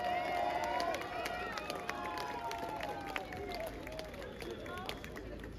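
Crowd applause and cheering at a 'Macron destitution' street protest at Place des Victoires in Paris, sustained and dense with whistle-like tones and voices mixed into the din.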